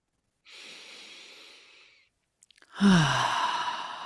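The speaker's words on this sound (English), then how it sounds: "let's just start this little time where I'm giving this talk with a deep breath. So let's just breathe in." A slow deep breath drawn in through the nose, a pause, then a long, loud sighing exhale, close and alone.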